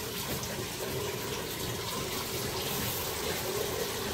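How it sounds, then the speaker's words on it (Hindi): Water runs steadily into a household storage tank, a dense, constant rushing gush that holds at an even level throughout, with no speech. "पानी चालू है टंकी में"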